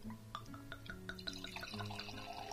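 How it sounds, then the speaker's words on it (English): Wine pours into a wine glass in a faint, close trickle with small glassy splashes and rising liquid tones over a couple of seconds. "So let's pour some of the wine into the glass."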